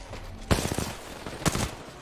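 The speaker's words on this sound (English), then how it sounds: "I saw gunshots and I got scared." Gunfire in the Apex Legends video game at a grand final match, two sharp loud bursts of shots about a second apart with scattered fainter shots and game noise between them.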